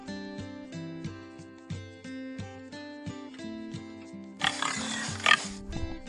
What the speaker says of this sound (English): A pig makes that sound.